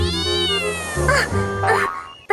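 A cat gives a long, drawn-out meow that wavers in pitch, loud and close, followed by a couple of shorter rough cries, with no talking.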